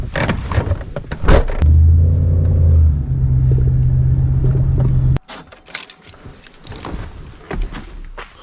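A pickup truck is driven nearby during scrap metal hauling: a loud, steady engine rumble holds for several seconds, then cuts out abruptly, leaving quieter rustling and handling noises.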